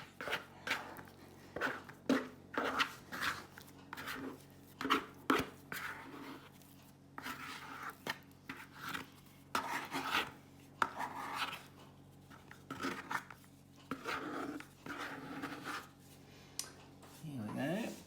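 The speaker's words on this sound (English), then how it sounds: "scrape your dough out." Hot cross bun dough scraped out of a mixing bowl, giving repeated soft scraping and squishing strokes at close range, mixed with occasional clunks and spoken remarks over most of the clip.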